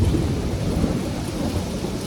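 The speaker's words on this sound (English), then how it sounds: "The hail is really coming down." Hail pounding down during a storm, a dense, loud, continuous roar of impacts with low rumbling underneath and no voices.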